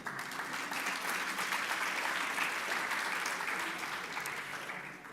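An audience at a university inaugural lecture in the arts and humanities gives steady, dense applause that holds evenly for several seconds and then begins to fade.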